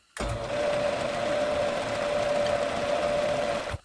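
A machine tool spindle runs steadily as it makes a starting dimple in metal, giving a close, even mechanical whir with a constant tone that holds for a few seconds and then stops.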